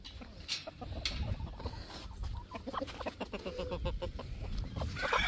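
Backyard chickens clucking and squawking close by while crowding in toward food, busy overlapping calls with faint rustling and scuffling underneath.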